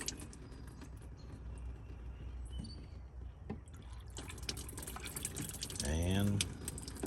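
Water pours into a dirty pressure washer tank and its filters, a faint trickle and drip that swells near the end into a gurgling fill with rising pitch, heard alone at low level.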